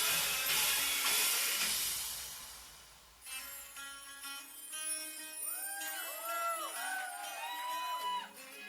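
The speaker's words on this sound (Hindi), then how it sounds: "give a big round of applause for Shubhanshi everybody" Audience at a sangeet dance cheering and clapping loudly for about three seconds, then fading as music with singing takes over.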